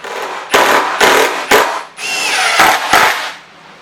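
Power drill driving fasteners to tighten a live-edge black walnut crossbow wall mount in a shop, in several loud close bursts of whirring separated by brief pauses.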